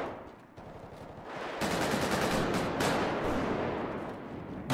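Machine gun fire in a GTA 5 role-play gunfight, heard as a dense, continuous rattle of rapid shots that grows louder partway through and runs for several seconds without talk.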